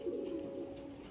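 Pigeons at a pigeon market giving a soft, brief low coo, faint against quiet background noise.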